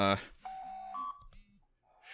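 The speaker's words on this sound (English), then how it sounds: "my phone's going off" A mobile phone goes off with a short run of clear electronic ringtone beeps, heard close under and between bits of a nearby voice during a podcast recording.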